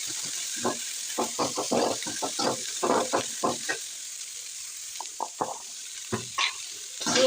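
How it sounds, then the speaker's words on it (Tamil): Dried chillies, garlic and onion sautéed in a pan, with soft intermittent scrapes and stirring bursts over a faint background sizzle, fairly quiet and close. "மிளகாய் வத்தல், பூண்டு 4 பல், வெங்காயம் போட்டு நல்லா வதக்கணும்"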